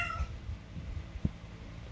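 A cat named Bounty, upset by a 3-month-old kitten, lets out one short, faint meow at the start, followed by a soft low thump in a quiet room.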